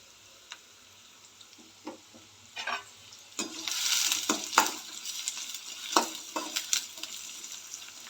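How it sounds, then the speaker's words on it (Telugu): Onion with a pinch of salt frying in a pan for egg fried rice, sizzling that swells louder midway, broken by repeated scraping stirs and light clatters of a spatula, close and without speech. "ఒక చిటికెడు సాల్ట్ వేస్తే ఆనియన్ తొందరగా వేగిపోతుంది"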